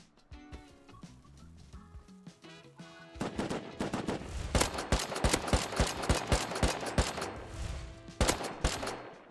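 Rapid gunfire during a raid in the video game Rust, sparse single shots at first, then dense, fast bursts of automatic fire that stay loud and continuous through the rest of the clip.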